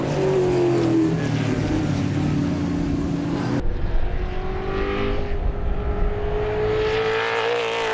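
Race cars at a raceway climb over the crest of a hill in tricky conditions during a club sprint round, engines revving and whining as they pass, one car fading before another roars through, loud and close.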